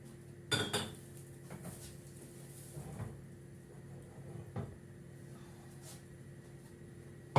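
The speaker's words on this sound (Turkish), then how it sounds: "Tencere lazım bana. Daha doğrusu çelik tava." Metal pots and a steel pan clank and scrape as they are handled in a kitchen, with a sharp clatter early on and softer knocks after.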